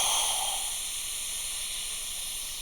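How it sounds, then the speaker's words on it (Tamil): A loud, steady high-pitched hissing whistle of a pressure cooker venting steam, continuous and unbroken for the whole stretch. "குக்கர் விசில் அடிக்குது"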